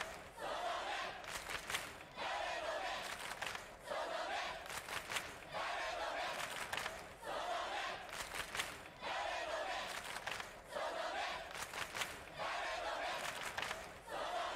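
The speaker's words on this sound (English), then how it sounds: "He's just in the crowd chanting." Crowd chanting from the Chaos;Head Noah visual novel, a large group repeating a rhythmic cry in regular bursts about every two seconds, loud and steady with no talk over it.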